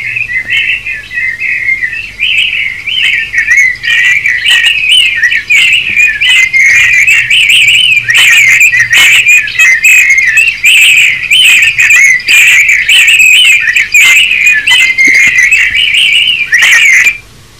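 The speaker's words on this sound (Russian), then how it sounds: "Здесь уже просто птички." Birds chirp continuously in a loud, dense chorus of rapid tweets and trills, close by, with no voices.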